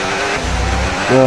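Formula 1 cars race in the F1 26 video game as a car drives down a straight with overtake mode active, giving a loud, close, steady engine drone that climbs in pitch near the end.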